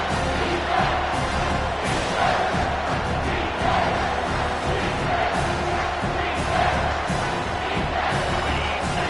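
A college football stadium crowd at Arkansas vs TCU roars steadily throughout, a dense, loud wall of cheering and yelling with occasional swells.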